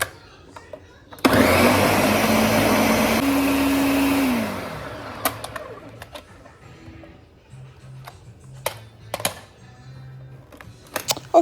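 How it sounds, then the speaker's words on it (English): A blender purees cassava with a little water, a loud whirring roar for about three seconds that drops in pitch and winds down, followed by quiet clicks and handling noises. "I'm gonna add some little bit water to help it, to blend until it become like a puree"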